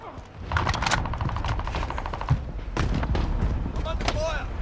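Gunfire from a house in the Warzone Rebirth Island video game: rapid bursts of sharp shots in several clusters, loud and close, with a short pause midway before more volleys.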